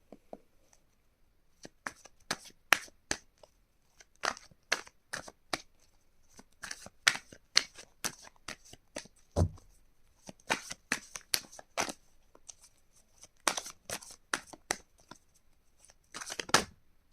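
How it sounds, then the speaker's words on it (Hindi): Tarot cards being shuffled by hand in repeated crisp riffling bursts with short pauses between, close and fairly quiet, with no talking. "और तब तक मैं आपके लिए कार्ड शफल करूँगी।"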